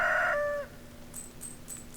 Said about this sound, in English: Alright, the rooster has crowed.